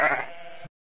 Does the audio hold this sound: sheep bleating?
yes